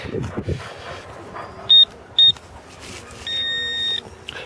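Metal detector signal over a buried coin in a park, two short high beeps followed by a longer sustained tone, with faint background noise and no talk.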